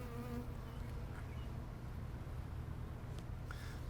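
Honey bees hum steadily around an open Langstroth hive, a faint, continuous close buzz with occasional individual bees droning past.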